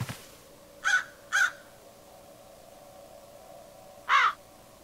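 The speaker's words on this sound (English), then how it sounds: "I hear birds." Three harsh crow caws from a video game ring out, two in quick succession then one more after a pause, over a quiet background hum.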